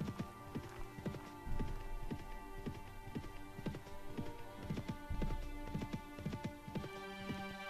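Galloping horse hooves in the medieval combat game Mount & Blade: Warband, a steady clip-clop rhythm running close and continuous throughout with no talk over it.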